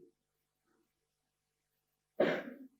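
A single sharp cough bursts out close by after a stretch of near silence, brief and loud with a rough, breathy tail.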